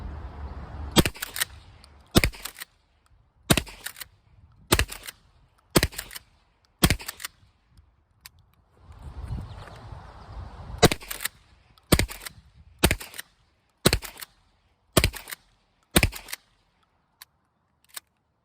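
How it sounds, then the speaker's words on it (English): A 20 gauge shotgun fires Rio Royal No. 1 buckshot in two rapid strings of sharp, loud blasts, about six or seven each, with a pause between, heard outdoors up close. "So I would have shot a full 25 rounds today"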